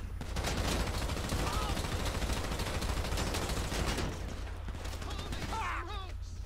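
Gunfire in GTA 5 after picking up a new gun, a dense, continuous run of shots filling the first four seconds, then thinning out while a voice talks over the end.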